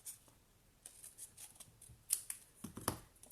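Scissors snipping through card stock while trimming a handmade Christmas card: a few quiet, scattered cuts, with a firmer pair of snips near the end, and no talking.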